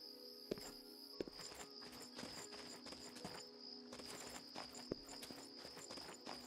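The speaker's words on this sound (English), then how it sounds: "Crickets and some nice sound effects." Crickets chirp steadily in a quiet night setting in the game Oblivion, a faint continuous trill with occasional soft footstep-like taps.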